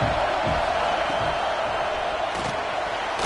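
A steady, loud roar from a packed football stadium crowd at a Texas A&M game, a continuous wash of noise with faint thuds and shouts rising within it.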